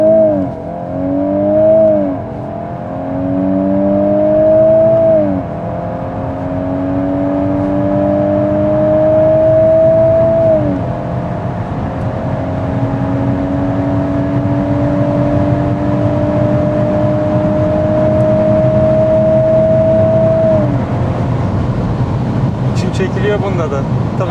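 A VW Golf 8 R with 320 hp engine pulls hard from a launch-control start, revving up through several gear changes in long rising sweeps, loud and close, then holding a sustained high-speed drone, with a voice talking over it at times.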